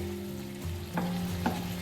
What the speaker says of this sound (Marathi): पाणी ओतल्या ओतल्या ना तुम्ही तुम्हाला आवाज येत असेल सर असा आवाज येतोय